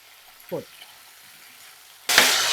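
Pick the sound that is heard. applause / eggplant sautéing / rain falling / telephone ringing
eggplant sautéing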